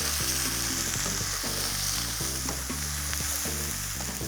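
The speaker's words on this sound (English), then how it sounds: "add in your ginger and garlic. We're going to stir fry this for just about a minute." Ginger and garlic stir-fry in vegetable oil in a pan, giving a loud, continuous sizzle with rhythmic stirring and scraping throughout.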